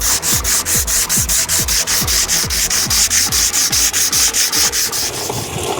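A Mini Cooper hood is sanded by hand with 220 grit sandpaper, producing quick, rhythmic back-and-forth rasping strokes, close and loud, repeating steadily for several seconds.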